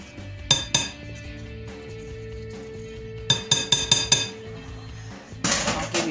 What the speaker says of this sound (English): A little spatula to get that out.